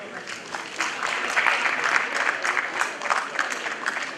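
Conference audience clapping in a steady, dense patter for a few seconds, moderately loud and filling the hall, with no single voice standing out.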